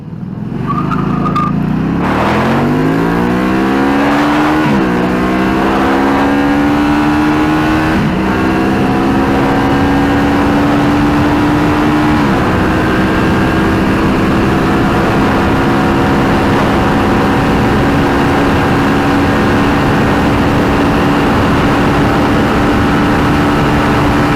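Can-Am Spyder and Can-Am Ryker three-wheeled motorcycles roar loudly through their runs, engines revving up through several gear shifts and then holding a sustained high drone close to the recorder.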